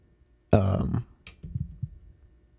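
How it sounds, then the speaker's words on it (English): A single loud, deep burp erupts abruptly, followed by a few quieter throaty grunts and exhales. "I felt that burp coming on, and I didn't want to do it for y'all"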